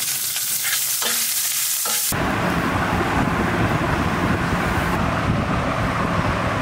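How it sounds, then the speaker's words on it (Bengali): Garlic and green chillies frying in a pan, loud and close: a quieter stretch of stirring, then a sudden burst into a dense, roaring sizzle that holds to the end, with no talk. "আর এখন রসুন আর হলো কাঁচামরিচ ভেজে নেওয়া হবে।"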